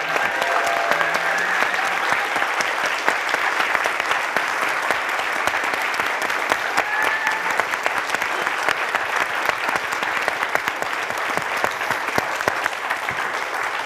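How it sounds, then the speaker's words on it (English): An audience at a summit talk applauds steadily, a dense, even wash of clapping that holds at a constant level for the whole stretch with no voices over it. "Can we give Susanne a round of applause, please?"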